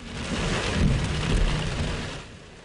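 Heavy rainstorm pouring onto flooded city streets with trees toppling, a dense close roar of rain with low rumbling swells, loud and continuous before easing slightly at the end.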